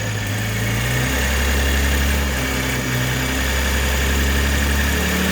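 A 2021 Toyota Supra fitted with an Injen cold air intake runs steadily in neutral with light throttle, a loud, continuous engine drone that rises slightly in pitch without any talking.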